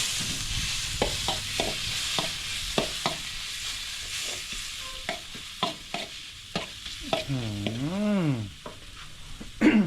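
Garlic and ground black pepper sizzle steadily in hot oil for a braised pork leg stew, with repeated close stirring and scraping strokes and no talking.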